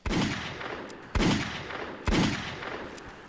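Three heavy Remington gunshots ring out in Fallout 4, each a sharp loud blast with a decaying tail, spaced about a second apart and heard without talk.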